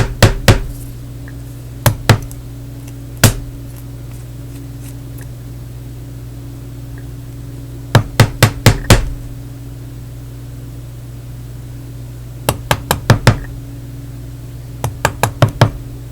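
Chisel struck with a mallet to chop out waste wood for dovetailed drawers in a workshop: sharp, loud knocks in irregular clusters of two to four blows, separated by pauses over a steady electrical hum.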